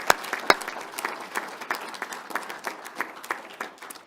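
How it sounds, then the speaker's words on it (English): Applause at an Alberta Order of Excellence investiture ceremony: a small group claps in sparse, uneven bursts, with a few sharp, loud claps up close above a thinner patter. "Take a round of applause."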